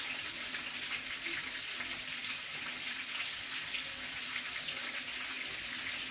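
A kitchen tap runs steadily in a continuous, moderately faint gush for a hand rinse while octopus legs are cooked, with no talk over it.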